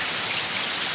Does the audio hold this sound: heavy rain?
yes